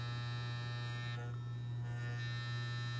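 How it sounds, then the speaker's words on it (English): Traditional all-metal Andis hair clippers, a heavy pair used for years, run with a steady, even electric hum that holds unchanged from start to finish, with no voices. "I want to turn on my traditional Andes clippers that I have used for years"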